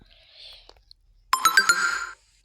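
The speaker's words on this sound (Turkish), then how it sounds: "bildirim geliyor." A phone notification chime rings out close and clear, a short cluster of bright tones lasting under a second after a quiet stretch with faint breathy sounds.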